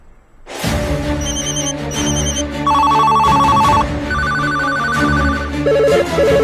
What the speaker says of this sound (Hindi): गांव में आजादी के बाद पहली बार मोबाइल की घंटियां बजने लगी हैं